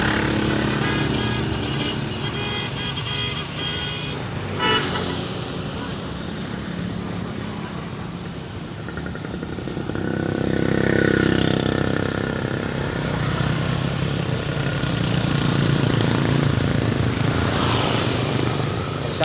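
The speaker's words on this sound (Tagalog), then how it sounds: "Mismo highway to pre. Highway talaga ito, highway." Motorcycles, tricycles and cars pass along a highway, engines swelling loud and close, then fading, as a steady rumble of traffic runs throughout with talk heard over it.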